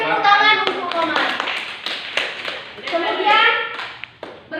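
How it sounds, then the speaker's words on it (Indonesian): A class of children claps for a classmate during a religious studies lesson, scattered quick hand claps running under a teacher's and pupils' talking. "Beri tepuk tangan untuk Komar."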